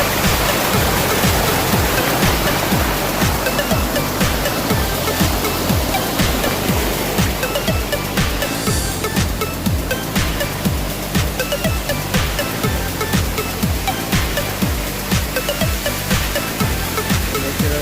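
Loud, continuous rush of mountain stream water tumbling over rocks close by, a steady roar with no break.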